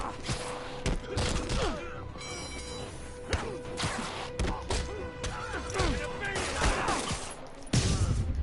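Enemy gunfire in Marvel's Spider-Man: rapid volleys of shots mixed with thuds and impact smacks, loud and busy throughout, with game voices and effects layered in.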